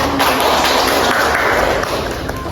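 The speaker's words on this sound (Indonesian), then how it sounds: "tepuk tangan" A classroom of students applauds together after a correct answer in a maths lesson, a dense, steady wash of many hands clapping close by for the whole stretch, with no talk over it.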